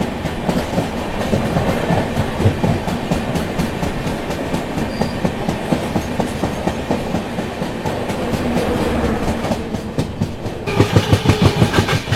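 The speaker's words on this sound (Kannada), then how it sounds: "ಯಶವಂತಪುರ ವಾಸ್ಕೋ ಡ ಗಾಮಾ ಟ್ರೈನ್ ಕ್ರಾಸಿಂಗ್" The Yesvantpur–Vasco da Gama train rumbles steadily past at close range, seen from the Hubballi–Chennai superfast express, wheels clattering rhythmically on the rails, growing louder with sharper clacks near the end.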